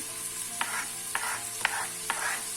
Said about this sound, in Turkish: Bu şekilde çok ince doğranmış soğanlarımı yağda güzelce kavuruyorum